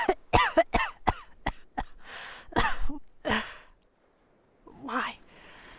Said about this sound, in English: I was overcome by a fit of coughing, trying not to gag from the lingering taste on my tongue.